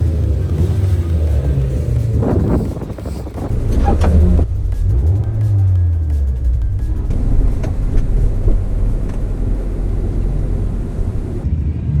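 An Alfa Romeo drag car races at Santa Pod, its loud engine roaring and building as it accelerates down the strip, a sustained rumbling blast with a rising pitch sweep midway, heard over constant crowd and track noise.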